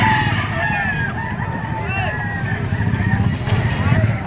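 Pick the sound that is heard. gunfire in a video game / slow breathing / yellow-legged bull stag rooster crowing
yellow-legged bull stag rooster crowing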